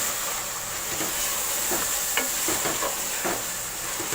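Minced meat (qeema) fries over a very low flame in a pan for a dhaba-style qeema aloo, giving a steady, close sizzle with scattered scraping stirs and light clicks throughout, no talking.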